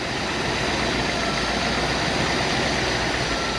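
A classic car engine idles at a dealer-only classic car auction while the carburetor is adjusted; a steady, fairly loud rumbling idle with dense mechanical noise runs unbroken throughout.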